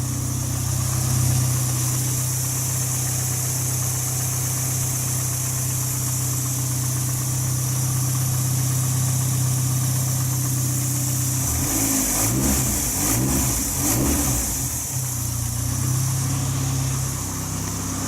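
A Nissan SR20 car engine on its first start-up after an R8 coil-pack conversion, idling with a steady low hum, then revving in a few quick blips near the end before settling back to idle.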